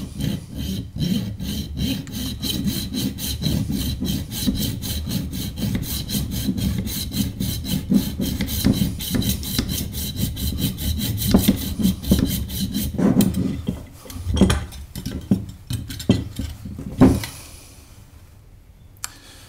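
A hand saw cuts through the bush of an MGB stub axle in a fast, even rhythm of close rasping strokes, steady for about twelve seconds. The strokes then become uneven and slow to a few final pulls.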